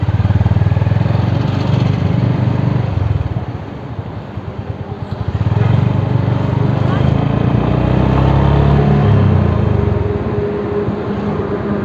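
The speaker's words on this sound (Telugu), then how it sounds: "సేమ్ రాయల్ ఎన్ఫీల్డ్ బీటింగ్ ఎలా వస్తుందో అలాగే ఉంది" A Honda Highness CB350 RS motorcycle engine beats steadily and loudly, dipping briefly before rising again, while someone talks over it.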